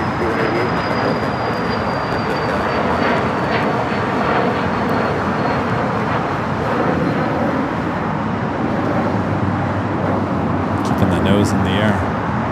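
A jet airliner takes off at LAX, its broad engine roar steady and loud throughout, with voices and radio chatter running over it.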